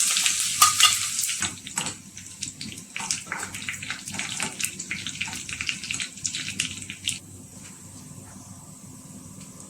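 Chopped ginger frying in hot oil with mustard seeds for an instant mango pickle, a steady close sizzle broken by repeated scraping stirs of a spoon in the pan, easing to a quieter hiss near the end.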